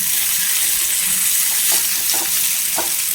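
Onions sizzle and crackle steadily as they fry in a pan for a Kerala-style vegetable stir-fry, a constant bright hiss with a few soft stirring scrapes, close and alone with no talking.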